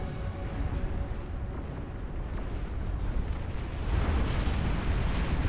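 In the Beyond All Reason real-time strategy game, flying flagships pound hover tanks, producing a dense, continuous rumble of overlapping explosions and booms that swells louder toward the end.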